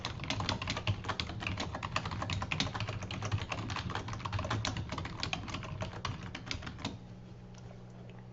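Rapid, steady clatter of keys on a computer keyboard while entering a login, heard up close and alone for about seven seconds before stopping, with no talking.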